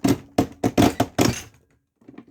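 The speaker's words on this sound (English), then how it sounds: "So hopefully I'm punching the right side that I wanted to punch." A wire binding hole punch cutting through paper for a wire-bound journal: six loud, heavy thunks in quick succession, close up, then a pause and a few fainter clicks of handling.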